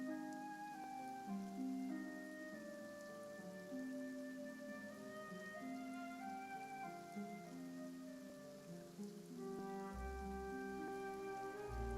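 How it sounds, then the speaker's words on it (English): Steady rain falls in Genshin Impact, a soft, continuous patter that stays at low level beneath sustained musical tones from the game, with no voices. "and now it's raining?"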